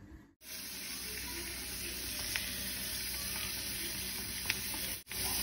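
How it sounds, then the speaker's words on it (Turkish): Tomatoes and mushrooms sautéing in a pan sizzle steadily over low heat, a continuous close frying hiss with a couple of faint clicks, and a brief break near the start and end. "Şimdi domatesim biraz mantarla birlikte tekrar sotelenecek."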